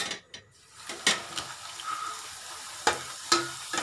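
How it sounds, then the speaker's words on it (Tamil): Poori frying in hot oil in a wok-style pan, a soft, quiet bubbling sizzle broken by several sharp clicks and scrapes, with no one speaking. "இப்போ நம்ம வந்து வானலில் எண்ணெய் காய வச்சுருக்கோம், போட்டு எடுக்கலாம்"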